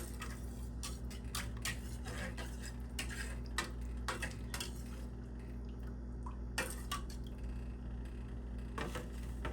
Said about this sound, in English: So we'll just stir it like that and get it incorporated in the water.